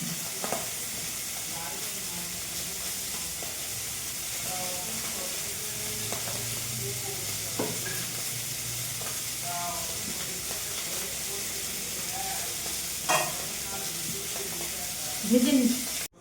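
Fish frying in a pan produces a soft, continuous sizzle and hiss close by, with occasional utensil scrapes and clatters and a louder knock near the end.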